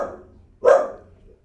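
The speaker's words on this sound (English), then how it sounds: "Now we got a barking dog" A single dog bark rings out sharply near the middle, fairly close and loud, preceded by a fainter muffled sound and followed by quiet.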